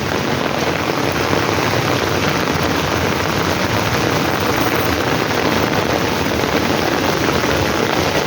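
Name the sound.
heavy monsoon rain on a Singapore road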